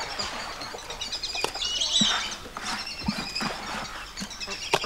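Cage birds bred by a keeper as a hobby, chirping and tweeting indoors in quick irregular bursts, fairly faint over a low room hiss.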